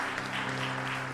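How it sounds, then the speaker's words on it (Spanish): Congregation applause for God during a Spanish-language church service: dense, continuous clapping over sustained low musical tones. "Fuerte ese aplauso a nuestro Dios."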